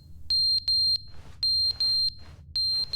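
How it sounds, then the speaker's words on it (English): A shrill electronic fire alarm in The Stanley Parable video game sounds in a repeating pattern of three piercing beeps, each group separated by short pauses, loud and close with a low hum underneath. "It's a fire alarm."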